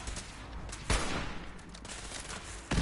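Two separate rifle shots in Fallout 4, each a short sharp crack about two seconds apart, over low game ambience with no talking.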